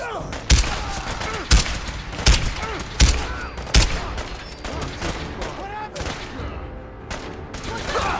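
Gunfire in Fallout 4, with sharp shots at irregular intervals and scattered crackling between them, over background voices and game sounds.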